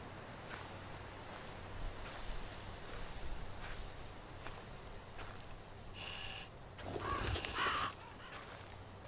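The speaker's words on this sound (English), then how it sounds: "Ah, yes, crows," Crows cawing in the horror game Slender: The Arrival, a few harsh calls at a distance over a quiet rustling, footstep-laden background, with a louder burst near the end.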